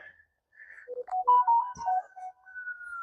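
Phone message notification on a quiet rural homestead: a short, faint electronic melody of a few stepped tones, followed by soft thin held tones, with no voices.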